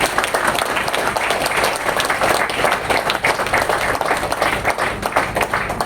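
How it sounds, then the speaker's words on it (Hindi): Loud, sustained applause from an event audience celebrating a vegan group, dense clapping continuing steadily throughout without a break. "तो ये वीगन स्लैग के लिए जोरदार तालियां होनी चाहिए।"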